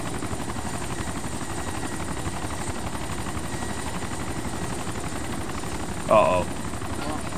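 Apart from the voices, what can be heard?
helicopter flying in video game DayZ Origins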